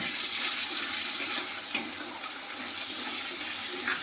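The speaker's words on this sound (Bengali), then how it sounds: "এইটা মশলাটা দিয়ে দিচ্ছি এটা হচ্ছে আদা রসুন কাঁচা লঙ্কা আর সাদা জিরের পেস্ট" A paste of ginger, garlic, green chilli and white cumin is added to a hot pan for a Bengali potol chingri dish, giving a steady wet sizzle with a few brief stirring clinks, and no one speaks.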